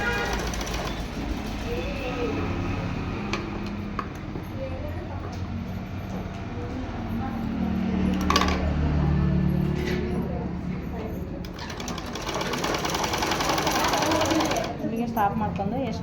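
Sewing machine stitching a blouse seam three-quarters of an inch in, a steady mechanical run under ongoing talk, louder from about seconds 7 to 10 and again near the end.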